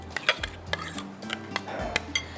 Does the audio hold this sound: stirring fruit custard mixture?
yes